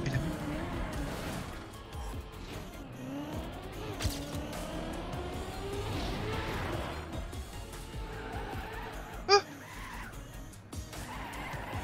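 Tires skid and squeal as a car drifts in a driving video game, the engine whining and revving continuously, with a sharp impact near the end and a voice heard faintly underneath.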